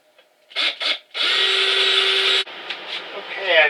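A power drill bores into wooden tool rack boards: two short bursts of the motor, then one longer steady whine under load, followed by quieter whirring and clicks.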